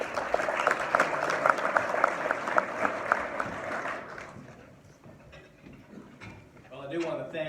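An audience at an energy-independence event applauds to welcome a speaker to the stage, with dense clapping for about four seconds that fades out, after which faint room noise and a few small sounds remain.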